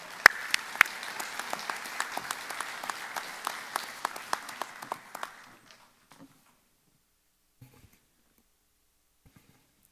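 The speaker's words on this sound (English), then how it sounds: "Let's give him a round of applause." A commencement crowd applauds the alumni speaker with steady, dense clapping and a few sharp individual claps, fading out after about five seconds into near silence with scattered faint knocks.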